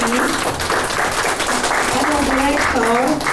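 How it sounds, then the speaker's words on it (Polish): A room full of people claps steadily and loudly throughout, a continuous wash of applause with voices mixed underneath. "Brawa dla Moniki"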